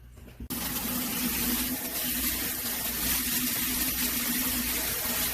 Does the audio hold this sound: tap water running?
yes